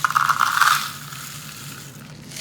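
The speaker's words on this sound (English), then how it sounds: "Little tiny glass pieces." Tiny decorative glass filler pieces for resin crafting are handled and shaken, a close, bright crunching rattle that fades into a softer scraping hiss.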